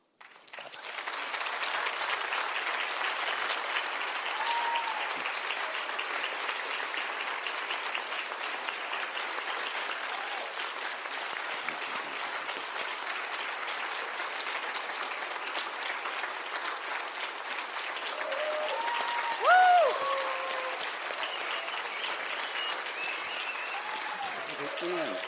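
Sustained audience applause, dense and steady for about 25 seconds, a large crowd clapping continuously with a brief swell near the end.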